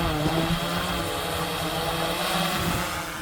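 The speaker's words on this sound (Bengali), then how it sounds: "ড্রোনটা কিন্তু উপরে উঠতে শুরু করেছে।" A DJI Air 3 drone lifting off, its steady propeller whine and hum running loud and close throughout with no voices over it.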